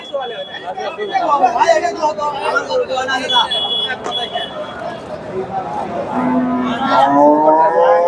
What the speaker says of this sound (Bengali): মোটামুটি সুন্দর একটা গাভী ছয় দাঁতের গাভী